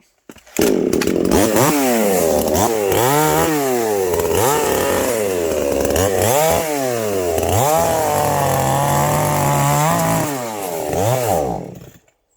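A chainsaw roars continuously up close, its pitch rising and falling in repeated surges as it bites through branches, then cuts off at the end.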